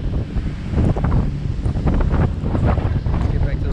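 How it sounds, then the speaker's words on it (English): Steady wind buffeting a microphone on a windy day beside a Scag V-Ride lawn mower, a constant low rumbling roar with gusty bursts throughout. "So we're working on a pretty windy day"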